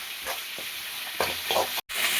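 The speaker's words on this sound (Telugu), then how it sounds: "సో ఈ మిశ్రమాన్ని మనం చక్కగా కలుపుకుందాం." A spoon stirs a ground Kashmiri chilli paste mixture for dragon chicken, giving a few soft wet scrapes and squelches close by over a faint steady hiss, with a brief dropout near the end.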